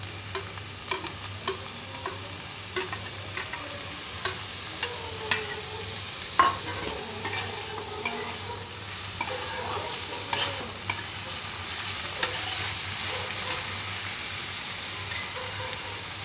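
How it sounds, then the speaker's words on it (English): Grated fresh homemade cottage cheese is stirred into frying onions in a pan for a stuffed potato curry. A spatula scrapes and clicks at an irregular pace over a quiet, steady sizzle, with no one talking. "So we will add some cottage cheese to it."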